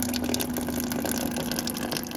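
Vinegar cleaning solution drains steadily from a ReadyRefresh water dispenser, a continuous near gushing trickle of liquid with a faint steady hum underneath, running unbroken throughout.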